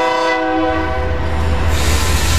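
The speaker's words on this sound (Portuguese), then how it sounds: "O trem." A passing train sounds its horn, a loud sustained multi-tone blare over the heavy rumble and clatter of rail cars close by, near a passenger terminal in Brazil, with no one speaking.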